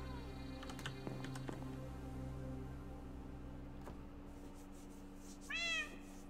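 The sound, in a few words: cat meowing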